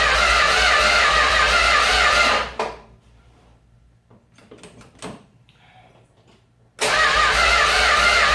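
A 1969 Dodge Dart engine with no spark cranks loudly in a steady whirring burst, then goes quiet with faint clicks and knocks before cranking again without firing.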